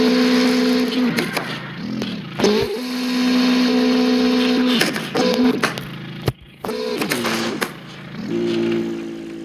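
A car engine running rough and uneven, its steady drone repeatedly stuttering and cutting out in brief dips before catching again.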